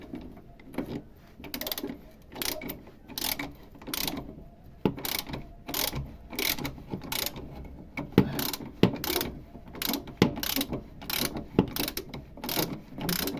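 A wrench ratchets as a bolt on the rear shock absorber of a Renault Trafic 1.9 van is tightened, giving a quick string of close clicking bursts in uneven rhythm with no talk.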